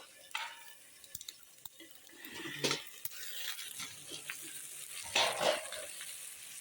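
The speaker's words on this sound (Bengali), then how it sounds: "এখন আরেকটু ভাজা ভালো করে ভাজা ভাজা করলেই হয়ে যাবে" Potato and spring onion stalks frying in a pan, a soft continuous sizzle broken by scattered stirring scrapes and a couple of louder clattering bursts, fairly quiet and close.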